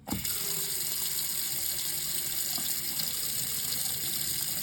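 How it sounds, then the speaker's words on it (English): Water runs steadily from a tap into a kitchen sink, a close, constant splashing hiss with no voices. "Run a bit of water,"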